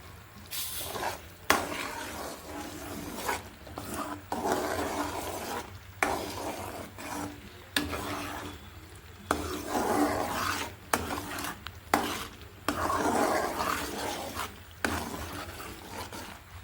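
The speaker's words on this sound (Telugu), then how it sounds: "ఇలా తిప్పుతూ ఉండాలండి పాకం పడుతూ ఉన్నప్పుడు తిప్పకుండా ఉండకూడదు చక్కగా కలుపుతూ తిప్పుతూ ఉండాలండి" Peanut and jaggery syrup for a mixed peanut patti is stirred in a pan with a spoon. It makes repeated rasping, scraping strokes in a steady rhythm, close and fairly loud, over a faint bubbling sizzle, with no talking.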